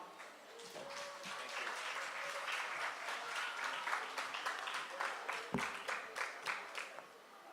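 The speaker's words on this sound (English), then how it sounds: "I just heard the graduates alone clapping" Steady applause from graduates at a graduation ceremony, continuous clapping heard from a distance with some sharper individual claps toward the end.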